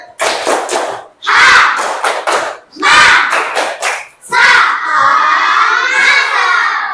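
Classroom children perform a rhythmic spirit cheer, bursts of loud unison clapping in short groups separated by pauses, ending in a sustained chorus of shouting voices.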